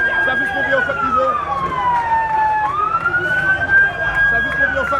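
A fire service vehicle's siren near a gas station fire on Rue 9A in Cap-Haïtien wails loudly and continuously, sweeping down in pitch and then back up over steady street noise.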